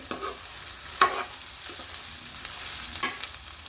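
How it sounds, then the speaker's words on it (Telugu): Onions and green chillies are stirred as they fry in a pan for egg curry, with a steady sizzle broken by a few sharp scraping strokes near the start, middle and end, close up with no talk. "ఆనియన్స్ పచ్చిమిర్చి అన్నీ అయితే ఒకే కర్రీ వేసుకుంటున్నాను నేను దీన్ని అయితే మంచిగా కలుపుకోవాలి"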